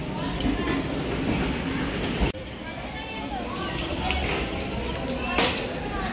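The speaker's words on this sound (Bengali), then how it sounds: "দেখি ট্রেন ঢুকুক, পরিস্থিতি বুঝে ব্যবস্থা নেব।" A commuter train rumbles steadily into a station platform near Sealdah, with a continuous low roar of the carriages, a sharp thump partway through and a faint high squeal near the end.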